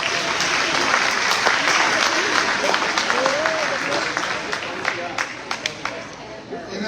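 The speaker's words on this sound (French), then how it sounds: "Applaudissons nos finissants du cégep." A crowd applauds cégep graduates at a graduation celebration, steady thick clapping throughout that gradually thins toward the end, with some voices mixed in.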